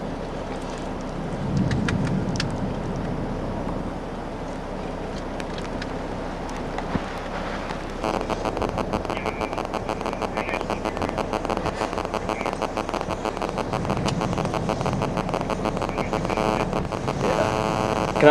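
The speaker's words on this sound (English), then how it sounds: "Storm is absolutely going crazy" A violent thunderstorm during a tornado outbreak in the Chicago area, with steady heavy rain hissing throughout and low thunder rumbles, the downpour growing denser and louder partway through.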